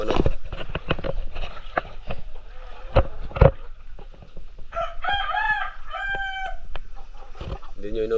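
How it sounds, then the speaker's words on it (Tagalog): Pet chickens in a backyard coop, with a rooster crowing loudly several times near the middle over scattered clucks and scratching thumps. "Silipin natin yung ating mga alagang manok."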